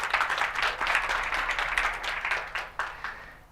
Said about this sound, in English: Give yourself a round of applause first as well for showing up.